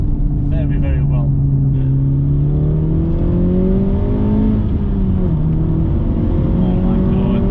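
A Honda Civic Type-R FK8 accelerates on the road, its engine a loud, close droning tone that climbs steadily in pitch as revs build, heard from inside the car.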